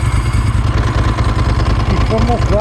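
A motorcycle idles nearby with a steady low rumbling thrum, and a voice talks over it toward the end.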